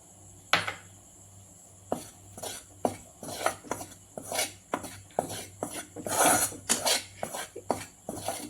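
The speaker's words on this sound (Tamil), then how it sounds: "இப்போ நம்ம கடலை மாவை வறுத்துக்கிறோம்" Gram flour is dry-roasted in a pan for paneer palkova, with a metal spatula repeatedly scraping and tapping against the pan in an uneven close rhythm, no voices.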